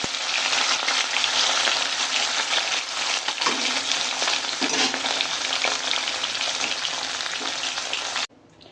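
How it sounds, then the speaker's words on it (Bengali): Pieces of bhola fish fry in hot oil with a loud, dense, continuous sizzle and crackle that runs steadily for several seconds, then cuts off abruptly near the end. "বাকি মাছগুলো সব ভেজে নিই"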